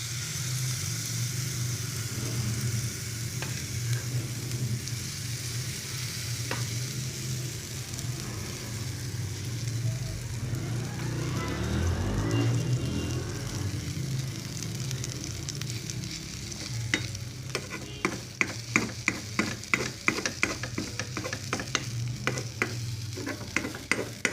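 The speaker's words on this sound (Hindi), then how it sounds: "अब हम ये अपना बैटर जो है ना, ये फ्राई पैन में डाल रहे हैं।" Egg and vegetable batter hisses steadily in a frying pan, with a close, continuous sizzle. Toward the end, quick rhythmic scraping strokes from a spatula join in.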